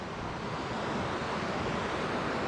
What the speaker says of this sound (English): The river just comes in and churns back and forward as it comes through this section in front of us.